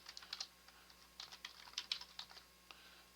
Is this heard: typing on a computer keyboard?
yes